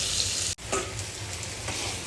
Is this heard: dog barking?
no